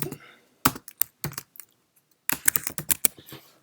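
A file path is typed on a Mac keyboard in close, quiet keystrokes: a few scattered taps, a brief pause, then a quicker burst of clicks.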